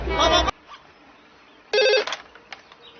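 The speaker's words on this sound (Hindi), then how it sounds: "आदि फोन नहीं उठा रहा तू?" A telephone rings with two short electronic bursts of trilling ringtone, loud and close, separated by a quiet gap, followed by faint trailing sounds.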